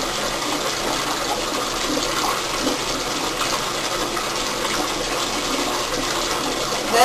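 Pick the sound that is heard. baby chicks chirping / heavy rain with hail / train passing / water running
water running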